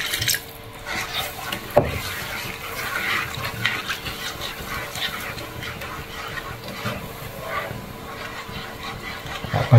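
Water added to a pan of apple pie filling with butter and sugar, a steady running, splashing pour with clatter, fairly close, continuing for several seconds.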